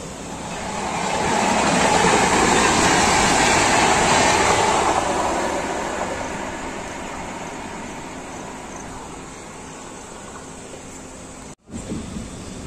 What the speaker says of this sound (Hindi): करीब 1:20 के बाद हमारे ट्रेन का डिपार्चर हो चुका है सिंगोरा रेलवे स्टेशन से